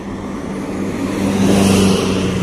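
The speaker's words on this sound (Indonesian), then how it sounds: "di sana terlihat ada satu unit bus Pangeran yang akan melintas" A Pangeran front-engined big bus passing on a road, a steady loud engine rumble with a low hum that swells slightly as it nears, heard outdoors without talk.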